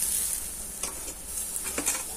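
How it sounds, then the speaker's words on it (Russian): Shashlik meat sizzles over a grill, a faint steady hiss with a few soft crackles and pops close by, and no voices. "Шашлык жарится, уже запашок пошел, класс."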